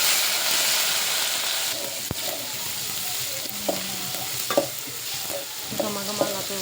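Onion and tomato fry and sizzle in a pan for an Uttar Karnataka-style dish, a steady hiss broken by occasional stirring clinks and scrapes, close and alone with no talk.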